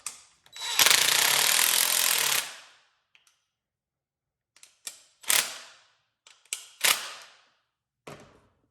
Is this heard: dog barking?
no